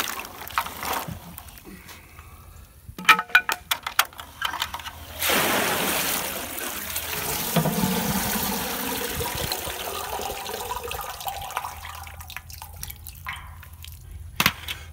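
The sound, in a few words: water rinsing muddy peanuts being dumped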